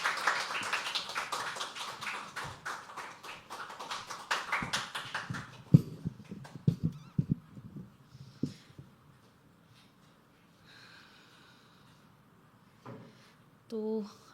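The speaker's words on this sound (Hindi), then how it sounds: "सो तालियां बजते रहनी चाहिए दोस्तों" Audience at a poetry open mic claps steadily for about five seconds, a dense, moderately loud patter that thins into a few scattered claps and quiet room noise.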